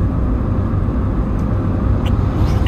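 A Toyota Aygo engine pulling in third gear, a steady loud low rumble of engine and road noise from inside the small car, continuous and even throughout.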